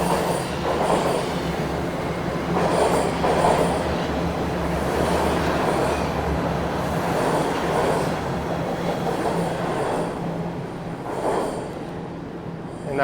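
A Toronto subway Line 1 northbound train pulls out of College Station, with a loud sustained rumble of wheels and motors, rhythmic rail clatter and some wheel squeal echoing through the station.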